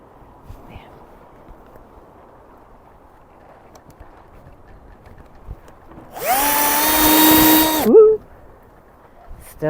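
A power drill runs with a steady rising whine for about two seconds while driving into wood for a log pile cover outdoors, loud and close after quiet background noise.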